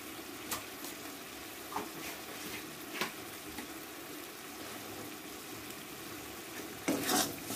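Masala with salt and turmeric frying in oil in a pan for an aloo fish curry, a soft sizzle under irregular spoon stirs and scrapes, with a louder clatter of utensils near the end.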